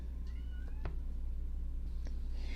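A pet cat stuck outside on a balcony meows a few times, the calls faint and somewhat distant over a steady low hum, with no talking.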